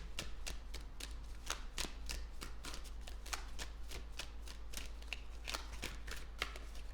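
Tarot cards riffled and shuffled continuously by hand, with a rapid, papery flutter of close, soft slaps and snaps and no voice over it.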